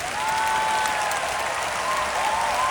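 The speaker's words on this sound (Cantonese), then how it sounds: "俾大啲掌聲你哋，" Sustained, loud applause from a live concert audience fills the hall, dense and even from start to finish, with a faint tonal line ringing beneath it.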